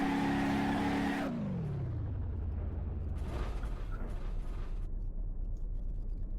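Car engine in BeamNG.drive, a V8 with a stage 2 supercharger, roll cage and cut-open hood, revs loudly, then drops into a low sustained rumble with a rising roar as it spins into a burnout, with no talk.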